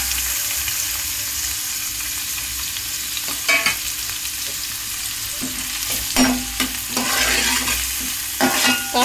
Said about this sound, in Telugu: ఆయిల్ వేడెక్కుతుంది కదా, ఇప్పుడు కట్ చేసి పెట్టుకున్న ఆనియన్స్, పచ్చిమిర్చి వేసుకోవాలి.